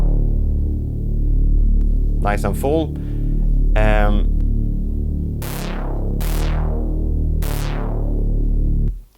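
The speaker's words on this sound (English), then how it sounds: "It's a synth bass." A synth bass tone from a MIDI-controlled effects unit rings out in full, sustained notes, with a few sharp swept stabs near the end and a voice speaking briefly over it.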